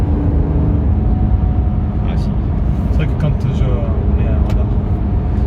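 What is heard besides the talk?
Maserati GranTurismo engine while driving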